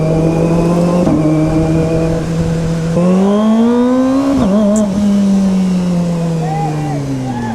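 A Yamaha NMAX scooter, previously suffering engine blow-by and now fitted with a 62mm 170cc bore kit, revs repeatedly, its pitch climbing and falling in loud close bursts while a voice talks over it.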